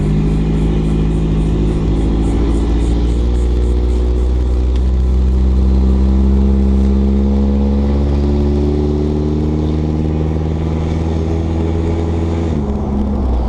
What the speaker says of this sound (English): Sounds like it's running a bit rich. Still breaking up.